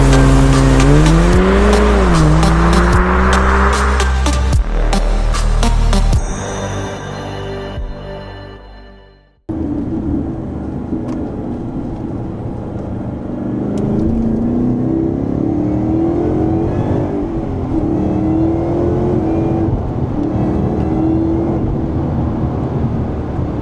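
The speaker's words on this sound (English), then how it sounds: "This is a 5 litre V8 supercharged Ford Mustang." A powerful 5-litre supercharged V8 Ford Mustang, about 600 hp, revs hard and loud, with a brief drop as it shifts, then settles into a steady, throaty roar while driving.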